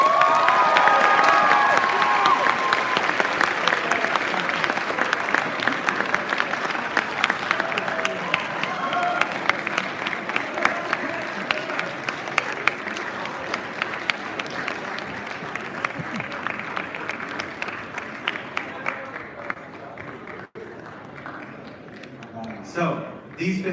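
A crowd claps and cheers loudly at first, the applause thinning into scattered claps and dying away near the end.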